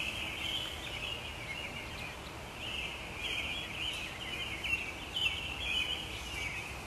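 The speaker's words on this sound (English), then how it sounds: "the birds are singing" Faint, continuous high bird chirping at night, around 2:30 a.m., carries over a steady background hiss, with a few slightly louder calls rising now and then.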